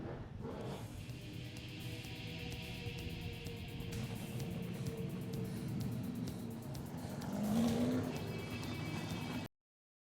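Supersaloon race cars at Cromwell speedway, a dense continuous engine roar of several cars racing together, swelling louder near the end as the pack passes close, then cutting off abruptly.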